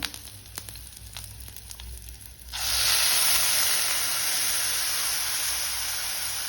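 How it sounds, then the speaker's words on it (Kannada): Ground chutney hits hot oil with fried curry leaves, bursting into a loud, steady sizzle partway through after a quieter stretch of faint pan noise, then hissing on evenly to the end with no voices. "ಈಗ ನಾವು ಗ್ರೈಂಡ್ ಮಾಡಿ ಇಟ್ಕೊಂಡಿರೋ ಚಟ್ನಿನ ಆ್ಯಡ್ ಮಾಡ್ಕೊಳ್ಳೋಣ"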